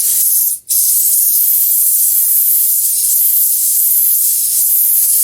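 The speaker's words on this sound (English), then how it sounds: "Is air going to pass? Yeah, some air comes through." Compressed air from a low-pressure air compressor blows steadily through a stuck spray can nozzle, a continuous loud hiss that briefly cuts out once near the start before resuming.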